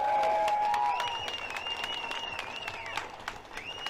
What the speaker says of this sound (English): A round of applause for Fiona